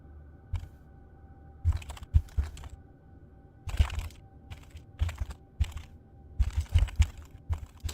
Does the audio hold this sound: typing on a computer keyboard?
yes